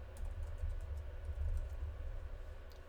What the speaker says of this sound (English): And then you'll type in your username